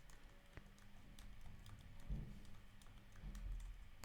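Computer keyboard typing at a quiet desk, scattered light key taps with a few firmer strikes, faint and close with a low background hum, no speech.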